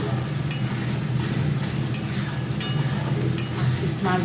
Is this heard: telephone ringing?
no